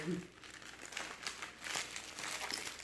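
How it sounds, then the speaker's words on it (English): Plastic food packaging crinkles and rustles up close as it is handled and cut open, with soft, irregular crackles that stay faint throughout. "hopefully I don't cut the wrong part of the package"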